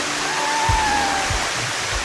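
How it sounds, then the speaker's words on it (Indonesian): An Icelandic waterfall roars close by, a loud, constant broadband rush of falling water with no pauses, with a few faint low thumps underneath. "Air terjun pertama."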